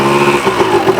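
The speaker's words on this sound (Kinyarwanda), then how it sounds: "moto wabonye ko yahagurutse" A motorcycle pulls away as the clutch is released, its mid-pitched engine note holding steady and close with slight pulsing as it moves off.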